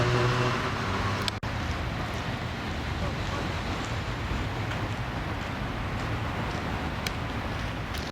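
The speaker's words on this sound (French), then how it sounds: "il y a une voiture qui passe" A car passes along a street under roadwork, its broad steady road rumble and tyre hiss filling the whole stretch, with a sharp knock early on and faint wind against the microphone.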